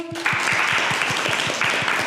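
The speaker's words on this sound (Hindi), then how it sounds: "ताली बजाओ सब लोग।" Schoolchildren at a village hostel school in Bijapur, Chhattisgarh, clap together in a quick, even rhythm of about ten claps over a background of group applause, following a brief voice at the start.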